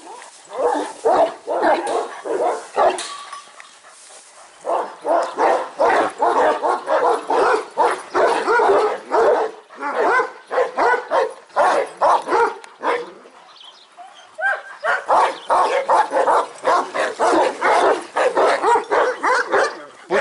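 Kangal dogs bark loudly and almost continuously at close range, with rapid overlapping barks, yips and whimpers and only brief pauses, and voices may mix in beneath the barking.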